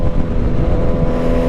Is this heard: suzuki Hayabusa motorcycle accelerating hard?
yes